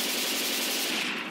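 Sustained automatic gunfire in the zombie shooter Left 4 Dead 2, a loud, dense rapid-fire rattle that runs unbroken and fades slightly at the end.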